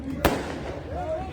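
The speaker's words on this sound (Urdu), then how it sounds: "آتش بازی روک دو" Fireworks go off at a crowded political rally by the Kabul River in Nowshera. One sharp bang cracks over a continuous murmur of crowd voices, and people are talking throughout.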